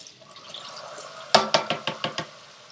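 Water splashes and sloshes in a series of about six quick bursts while a plant pot is rinsed out, fairly close and moderately loud, following a quiet trickle.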